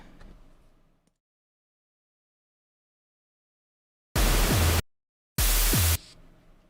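Two separate bursts of synthesized static noise in a halftime music production, each about half a second long, loud and broadband, with deep thumps underneath and a brief pause between them.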